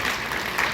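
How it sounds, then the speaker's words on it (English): A crowd applauds an awardee at the Las Vegas Fil-Am Father of the Year Awards, a short burst of dense, steady clapping that fills the room. "Let's give him a big round of applause."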